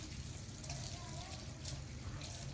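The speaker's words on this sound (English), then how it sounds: "we're going to put our hands under the water again and rinse all that soap off" Tap water runs steadily into a sink while hands are rinsed of soap, a soft continuous splashing heard close up and fairly quietly.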